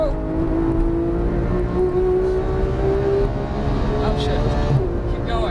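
A Porsche 991 GT3 engine pulls hard on a racetrack at Auto Club, a sustained, close drone with a slowly climbing pitch under an instructor's voice giving driving directions.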